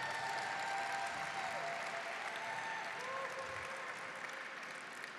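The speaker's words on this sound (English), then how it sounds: "So if we could just give Dwayne a round of applause" Audience applause at an American Indian Heritage celebration, steady continuous clapping from a crowd, moderately distant and filling the whole stretch without speech.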